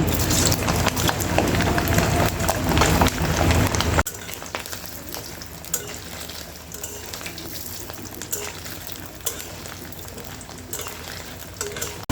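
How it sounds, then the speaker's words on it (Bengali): Paneer pieces fry in hot oil for a curry with potato and pointed gourd. A loud, dense sizzle fills the first few seconds, then settles into a quieter, steady crackle with scattered sharp pops. "এখন আমি পনিরগুলো ভেজে নেব"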